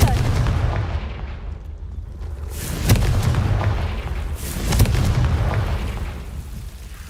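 Fiery Confringo spell explosions in Hogwarts Legacy, two sharp booming bursts over a steady rumbling game background, loud and close with no voices.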